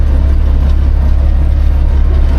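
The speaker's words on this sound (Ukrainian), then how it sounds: "Трошки трактор бува підгарцьовує." MTZ 1025.2 tractor pulling a Hermes 2.7 disc harrow through damp soybean stubble, its engine a steady, loud, low rumble that runs without a break, close by.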